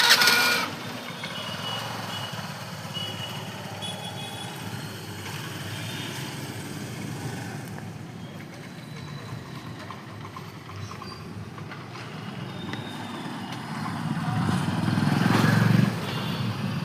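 A parked scooty's engine runs in a steady low drone throughout, close by, with a brief louder surge near the end and no talk over it.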